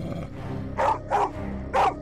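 A tamed dog in the Minecraft video game gives three short, evenly spaced barks over a low background hum and faint game sounds, with no talk.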